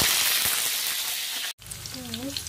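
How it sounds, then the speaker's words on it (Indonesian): Eggplant fries in hot oil with a loud, steady sizzle that cuts out abruptly; a quieter, crackling fry follows with a brief murmur of a voice over it. "Setelah itu kita goreng terongnya selanjutnya sampai"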